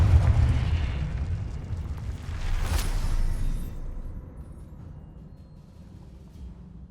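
A Confringo fire spell explodes in Hogwarts Legacy: a loud deep boom with a roaring rumble, a second swelling burst, then a slow fading tail.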